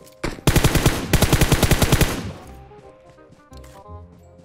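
Automatic gunfire in the PUBG Mobile battle royale game, a loud rapid burst of around fifteen close shots lasting a couple of seconds, then fading into quieter game ambience.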